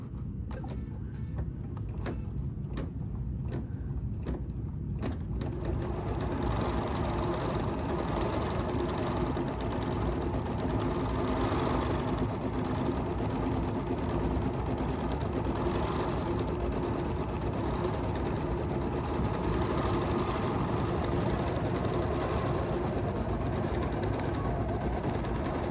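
A Bernina 990 sewing machine stitches a quilting design in embroidery mode, a steady motorized hum and rapid needle chatter running without a break, after a few soft clicks at the start, with no voices.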